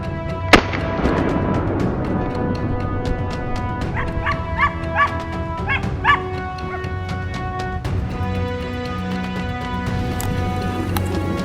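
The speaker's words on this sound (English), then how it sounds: "The sound of hunting dogs echoed from the other side of the mountain slope." Hunting dogs bark and yelp repeatedly during a wild boar hunt on a mountain slope, several voices overlapping in bursts over a rumbling outdoor background, with a sharp crack near the start.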